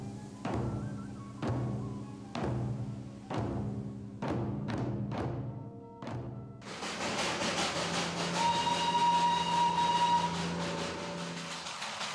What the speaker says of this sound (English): Huffing and puffing all the way, the Darjeeling toy train holds up the steeps of this colourful hill station as the antique steam engine zigzags